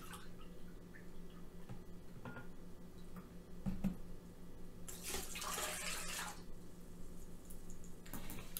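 Apple juice pours from a cup into a blender, a soft splashing trickle building to a fuller gush for a second or two, fairly quiet and close, with no one talking.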